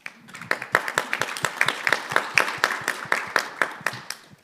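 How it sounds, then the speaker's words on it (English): Audience applause at the Asia Sustainable Finance Forum 2022 welcomes a keynote speaker: a steady run of sharp, closely spaced hand claps, fairly near and even in rhythm, with no voices over it. "please welcome her with a big round of applause"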